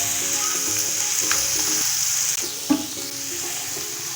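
Spices and ginger-garlic paste fry in a pan with a steady, bright sizzle, broken by a few scraping stirs and a small clink of the spoon near the end, close and fairly loud.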